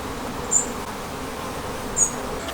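Honey bees buzzing around a hive feeder, a constant low drone of many bees nearby, with two brief higher buzzes as single bees pass close to the microphone.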